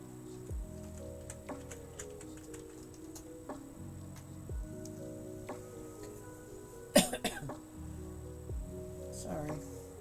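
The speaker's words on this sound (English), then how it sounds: "didn't mean to cough into the mic there." A single sharp cough lands close on the microphone partway through, loud and sudden against quiet room tone, faint ticking and low background sound.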